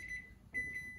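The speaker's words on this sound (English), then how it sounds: "my timer's going off" A kitchen timer beeps in a home kitchen during baking, a steady high-pitched electronic tone in two bursts with a brief gap, close and clear with no talking.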